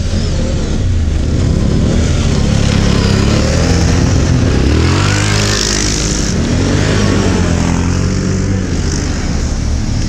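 A Lada Niva 4x4 revs and drives off, its engine loud and close with rising and falling gear pitch, then fading slightly as it pulls away, with no talk.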